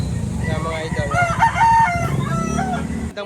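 A rooster crows once, a loud close drawn-out call rising and falling over a murmur of background voices at a fowl sale.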